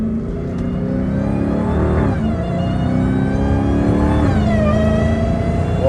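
An 800hp Dodge Challenger Hellcat Redeye accelerates hard through its gears at night, its loud engine note climbing, dipping at each shift, then rising again, heard from inside the car.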